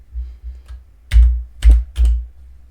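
Typing on a computer keyboard, a few soft scattered keystrokes followed by three firmer key presses close by in a quiet room.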